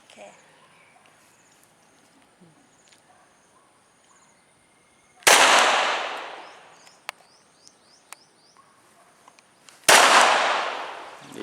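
Two loud, sharp Glock 21 .45 ACP pistol shots ring out several seconds apart outdoors, each with a long echoing decay, over faint insect and bird ambience and occasional small clicks.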